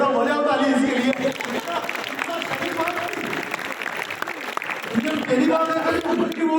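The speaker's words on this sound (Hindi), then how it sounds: "हो जाओ ताली इसके लिए" An audience at a spiritual talk for students claps in a dense, sustained wash of applause that runs through the whole stretch, with voices and cheering mixed in over the top.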